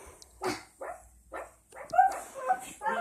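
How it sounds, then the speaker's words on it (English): A husky dog woofs in a series of short, separate barks, roughly one every half second, close and fairly loud with nothing else behind them. "we woof like a little husky dog"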